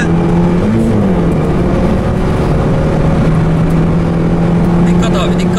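A Renault Megane RS runs at full throttle on the Istanbul Park track, with a loud, constant engine drone holding a steady pitch inside the cabin and a voice audible over it.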